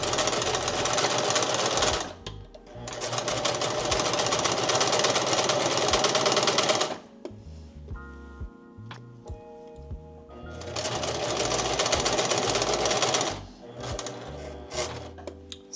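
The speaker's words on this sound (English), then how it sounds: "So I just sewed right up to the inner edge of the dart." A sewing machine stitching a dart in a dress, running in two loud, steady bursts of rapid mechanical chatter, with quieter clicks and handling noise between them.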